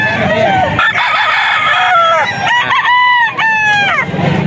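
Roosters crow loudly and close at a chicken seller's yard in Bulacan, with several overlapping cock-a-doodle-doos and clucking through the span, some talk faintly underneath.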